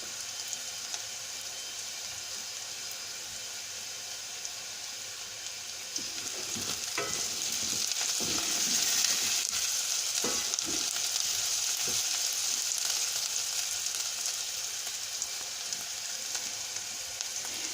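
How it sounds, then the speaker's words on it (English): Onions frying in a pan, a steady, moderately loud sizzle with occasional stirring scrapes and clicks in the middle stretch, no speech. "the onions themselves are starting to go ever so slightly brown, so they're both cooking well"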